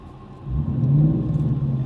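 A Ford Mustang Boss 302 engine revs up from about half a second, a deep, loud rumble that swells to a peak near one second and then holds steady, close to the listener with no talking.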